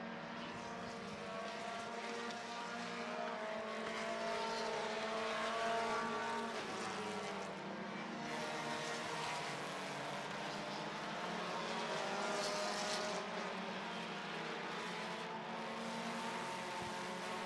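Race cars lapping a track during an eight-lap heat race, a steady loud engine roar that rises and falls as cars pass, continuous throughout with no break.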